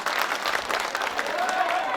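An audience at a mushaira poetry recital in Sakinaka, Mumbai, applauds; dense, continuous clapping fills the whole stretch at steady loudness, with faint voices blending into the crowd noise.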